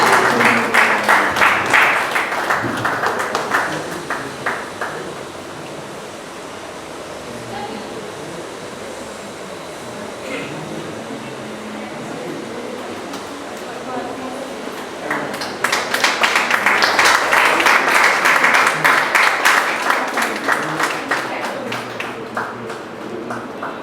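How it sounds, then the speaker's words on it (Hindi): Audience clapping at a book launch event in a hall, loud sustained applause at the start that fades into room murmur and then swells again toward the end, with some talk under it. "तालियां रुक जाती है"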